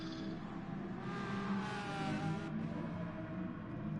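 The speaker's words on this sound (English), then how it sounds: "Sometimes you just like to hear the way these cars sound thundering around here." Race cars in a racing video game thunder around the track, a continuous steady engine roar with whirring tones and no break, loud and alone.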